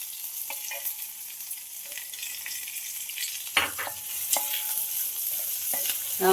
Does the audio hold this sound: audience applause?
no